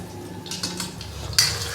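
Ginger garlic paste hitting a hot pan for a Pakistani dhaba-style fried daal mash, with a few close utensil clinks and scrapes followed by a brighter burst of sizzle near the end.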